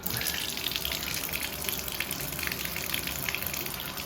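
Water runs steadily from a shower after a pulsating-flow repair, a continuous hissing spray at low level with no voices.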